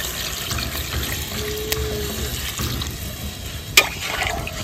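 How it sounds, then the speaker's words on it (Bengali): Water poured into a pan of rithe fish curry makes a close, steady splashing and filling sound for a few seconds, broken by a sharp clank of a vessel near the end. "এবার দিয়ে দিচ্ছি জল।"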